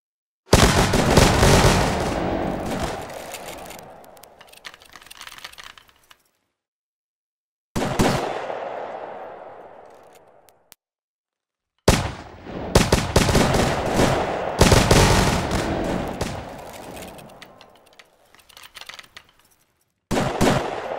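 Musket volleys in the game Mount and Blade 2 Bannerlord, with loud massed gunfire bursting out in several separate rolling waves, each one crackling and then fading into brief silence before the next.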